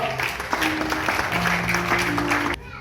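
A church congregation applauds at a Sunday service. The steady clapping carries sustained sung or musical tones over it and then cuts off abruptly at the end.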